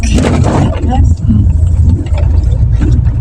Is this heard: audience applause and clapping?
no